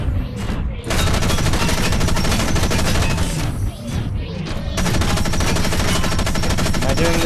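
Dense, sustained machine gun fire from a mech battle in the video game Front Mission Evolved, loud and continuous with brief lulls and distant booms, and a voice talking faintly underneath.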